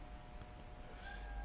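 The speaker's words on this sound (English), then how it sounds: "That's my cat, Mary." A pet cat named Mary gives a faint, brief meow, heard at a distance under a steady background hum with a thin tonal whine.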